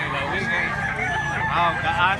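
A fighting cock at a rural Cebu cockfighting gathering calls out against crowd chatter, giving a honking, crowing squawk that rises and falls over about two seconds amid nearby voices.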